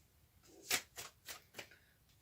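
Oracle cards for a law of attraction reading being shuffled: four quiet, papery riffles in an even rhythm, close by, with no voices.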